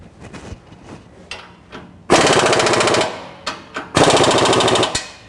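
Pipe hangers on a DynoMax performance exhaust being tightened with a power tool, loud rattling bursts of impact hammering, two long runs with short taps between them, close up.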